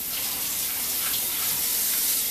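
Tap water running steadily while the top of a baked bean can is washed at a sink, a constant close hiss with no pauses or voices.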